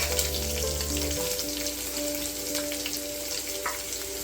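Shallots hitting a hot pan for Vietnamese crab noodle soup, sizzling steadily and close, with a steady tonal hum running underneath and a brief clatter near the end.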